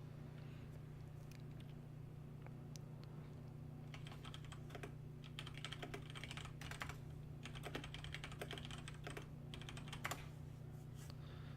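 Someone types on a computer keyboard during an esports broadcast. The keystrokes are faint and come in irregular clusters of quick clicks, growing busier midway, over a steady low background hum.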